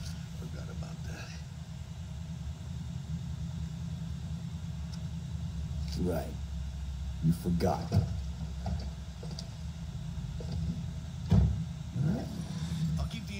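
A car engine idles in Cyberpunk 2077 as a steady low rumble, with occasional louder surges, under intermittent talking.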